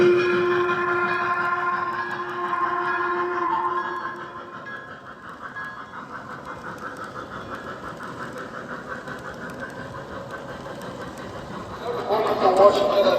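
Weaver Tennessean model locomotive hauling MTH Premier streamlined Southern passenger cars around a layout, a steady rolling hum of wheels on track with a brief louder burst near the end.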